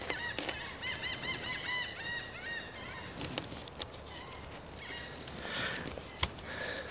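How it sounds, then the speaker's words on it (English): Seagulls call repeatedly in the distance, a chorus of overlapping squawks and cries with a few sharp clicks nearby. "don't know if you can hear the seagulls."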